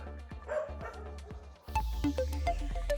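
Dogs bark in short, repeated yips and bow-wows at an animal shelter housing many dogs and cats, several animals sounding close and loud with overlapping calls and no talk.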